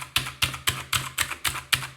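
Fast, even typing on a Battletron mechanical keyboard with blue switches, close up: seven sharp clicky keystrokes in a steady rhythm with no voices.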